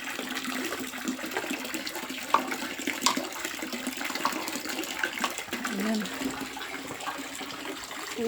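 Water rushing in a stream on Mudeung Mountain in Gwangju, South Korea, a continuous broadband gush with small splashes, steady and fairly loud, with occasional talking over it.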